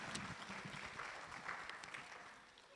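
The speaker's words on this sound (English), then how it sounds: "Let's clap for Roy as he comes to present." Quiet, distant applause from an audience at a Kenyan SACCO member education day, steady scattered clapping welcoming a presenter to the stage, with some crowd murmur underneath.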